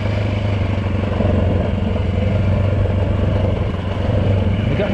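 A Yamaha WR450 dirt bike descends a steep downhill trail in low gear, its engine braking with a steady, loud, close drone and rumble held throughout.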